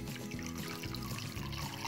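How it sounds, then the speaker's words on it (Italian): Water trickles out of a loosened radiator bleed valve into a glass, a close, steady pouring sound with a bubbling, gurgling texture. "Bisogna far uscire l'acqua, quindi munitevi di un bicchiere o di una tazzina"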